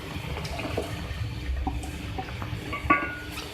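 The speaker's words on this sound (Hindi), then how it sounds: "आप देख सकते हैं जो मैंने पानी इसमें ऐड किया था इसमें बॉइल्स आ गए" Water in a cooking pot bubbles and churns as fried potatoes are added for a Hyderabadi aloo baingan curry, a steady watery rumble with a small splash near the end.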